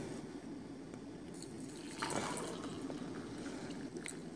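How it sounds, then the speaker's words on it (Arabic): Hot water poured onto herbs for a homemade tea, a steady close splashing and trickling stream that swells briefly midway, with no voices. "هننزل بمية سخنة معانا كده"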